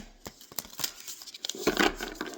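Oracle cards are shuffled up close, quick papery riffles and soft flicks in a short burst.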